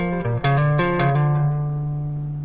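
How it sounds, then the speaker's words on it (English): Electric guitar plays a short minor pentatonic phrase of several quick picked and slid notes, then holds a final note that rings and fades alone. "Then after that you have a phrase inside the minor pentatonic scale,"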